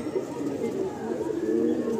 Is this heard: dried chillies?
no